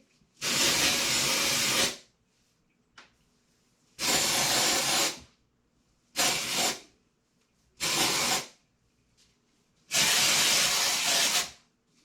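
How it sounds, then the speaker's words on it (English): Hairspray is sprayed at the back of the hair and roots in five separate hissing bursts, each lasting one to two seconds, with quiet gaps between them. "I'm just going to flip my hair over and spray this at the back and the roots really good"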